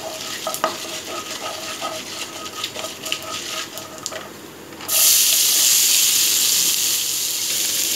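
Onion, curry leaves, green chilli and ginger sautéing in oil for masala dosa filling: scraping stirs and light sizzle, then a sudden loud, steady hissing sizzle takes over as more goes into the hot pan.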